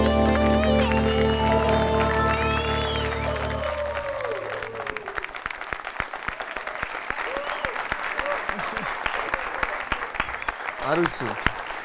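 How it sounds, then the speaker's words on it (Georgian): A late-night television show's studio audience applauds a guest, a chess champion, as music fades out, with sustained clapping continuing to the end. "აპლოდისმენტები"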